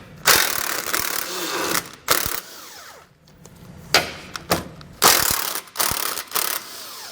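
A hand ratchet removes the nuts holding a 2020 vehicle's bumper, giving several close bursts of rapid clicking separated by brief pauses, each burst sharp and loud.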